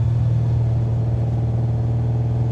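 Steady engine of a restomodded 1980 Chevy Camaro Z28 with a gear drive, heard from inside the car as a loud, deep, continuous rumble with a faint rise in revs and no talking.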